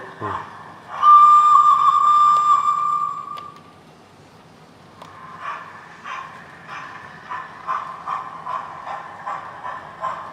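A shrill toy steam whistle sounds for about two seconds, then fades into the light rhythmic clicking and whirring of a small model train running.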